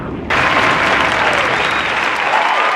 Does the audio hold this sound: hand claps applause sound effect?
yes